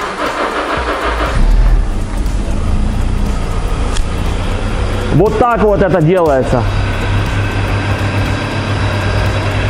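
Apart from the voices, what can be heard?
Honda CR-V RD1 engine running after distributor repair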